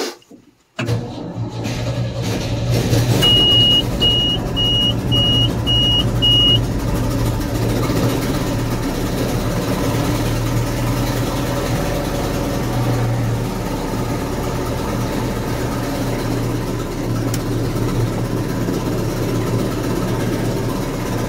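A Gleaner F2 combine engine cranks over and fires up, then settles into a loud, steady, rumbling idle with its separator running. A short series of high beeps sounds near the start, and the engine drone continues unbroken to the end.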